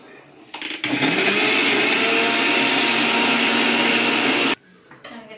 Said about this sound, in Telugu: ఇంకా వాటర్ వేసుకొని మిక్సీకి అయితే గ్రైండ్ చేసుకోవాలి.